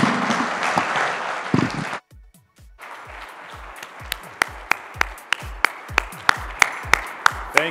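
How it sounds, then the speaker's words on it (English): Conference audience applauding at the end of an onstage conversation at an India education summit. A dense wash of clapping breaks off abruptly, then resumes as scattered, individually audible claps that tighten into a steady rhythmic beat. "How about one more round of applause for Deborah and Nandan?"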